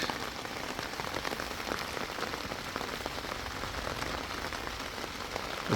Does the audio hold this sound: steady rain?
yes